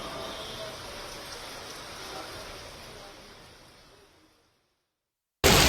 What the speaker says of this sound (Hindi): आप देखिए कितने बड़े बड़े ओले हैं यहाँ पर इस तरीके से पड़ रहे हैं